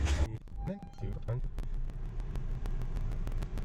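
A Honda CR-V idles and runs with a low steady engine rumble while being shifted through the gears, close by with some clicks, and a person talks over it.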